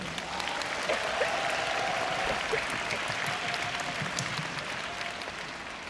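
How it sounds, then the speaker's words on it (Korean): Steady, dense audience applause continues throughout at a live K-pop concert, broad and sustained with a faint tonal hum beneath. "감사의 박수 한번 드립니다"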